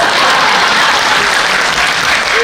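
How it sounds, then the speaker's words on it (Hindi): Loud, dense applause from a crowd at a Hindi poetry recital fills the whole stretch, steady and continuous without pause. "कीर्तन समाप्त हुआ, जोरदार तालियां।"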